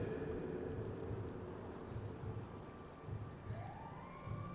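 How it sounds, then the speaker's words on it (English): A distant police siren in a video game wails and rises over a low rumbling background, fairly faint. "I hear the sirens"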